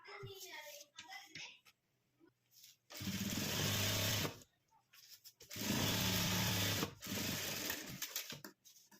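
A sewing machine runs in two sustained bursts of stitching while a cloth purse is made from blouse fabric, with someone talking in the pauses between bursts.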